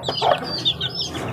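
Newly hatched white chicks peep and cheep in soft, quick, high bursts, close by and fairly quiet.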